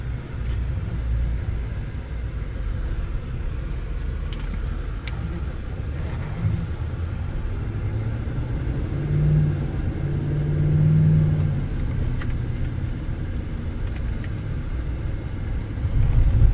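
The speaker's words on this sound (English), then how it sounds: "we're going on a quick test drive here" A 2024 GMC Sierra 3500HD Denali pickup truck drives along on a test drive, its engine giving a steady low rumble with road noise from inside the cab, swelling slightly at moments, no talk.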